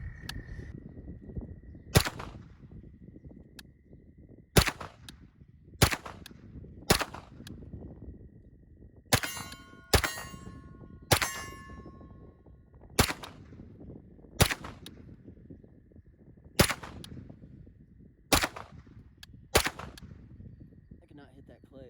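Sharp gunshots from a Sig MPX Gen 2 8-inch fired at an outdoor range, a dozen loud cracks at irregular intervals with a couple of quick doubled shots in between.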